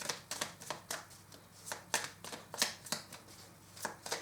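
Tarot cards being shuffled by hand: a run of quick papery riffles and slaps in uneven bursts, close and fairly quiet, with no talking.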